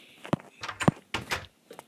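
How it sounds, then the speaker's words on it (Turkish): Doors opening and closing in the Minecraft video game: several short wooden clunks and thuds in quick succession, close and moderately loud, with brief gaps between them and no talking. "normal şöyle güzel bir kapı koydum"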